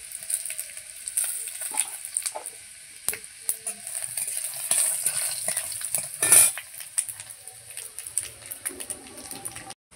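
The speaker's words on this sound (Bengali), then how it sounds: "এবার দিয়ে দেবো গোটা জিরে ফোড়ন" Whole cumin seeds and garlic tempering in hot oil crackle and sizzle steadily up close, with a few stirring scrapes and a brief louder burst midway.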